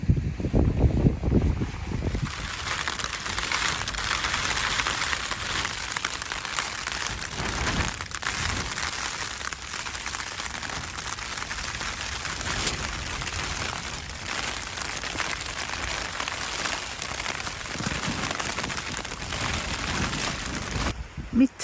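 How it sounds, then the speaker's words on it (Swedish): Tent fabric flaps and rustles continuously in strong night wind at a mountain campsite on a Nordic trail, a broad steady hiss with occasional louder gusts and snaps, close to the microphone. "Det blåste satan i natt igen och det flappar och far."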